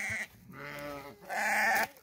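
Sheep in a Turkish village bleat close and loud, two long wavering calls separated by a short pause.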